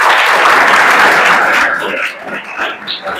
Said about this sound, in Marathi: मला वाटलं तरी वाटलं की मुलांनी टाळ्या वाजवल्या